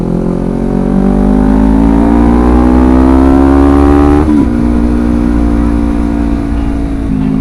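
Honda CBR250RR motorcycle engine revving close by, a loud, steady high-pitched drone climbing in pitch as the throttle opens, then dropping and settling back to a lower steady rev with no talk.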